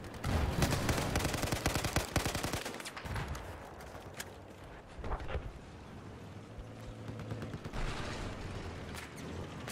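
Gunfire in a competitive shooter video game match opens as a dense, loud run of rapid shots, then continues in sparser bursts under a windy, rumbling background.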